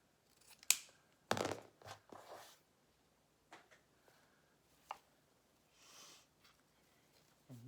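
Scissors snip a ribbon tail on a red prayer bow in a few quiet, separate cuts with short rustles in between, close and soft.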